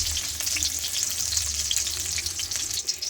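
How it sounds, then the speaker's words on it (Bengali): Cut tomatoes and a few garlic cloves fry in oil for an eggplant-tomato mash, giving a continuous bright sizzle with stirring scrapes and a low hum underneath, close and fairly loud, with no talking. "তারপর আমি কেটে রাখা টমেটোগুলোকে আমি এইভাবে ভেজে নিচ্ছি, তার সঙ্গে কয়েকটা রসুনের কোয়াগুলোকে সেম প্রসেসে ভেজে নিলাম।"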